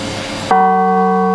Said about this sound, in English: So I'm just giving you a little demonstration of a little bell.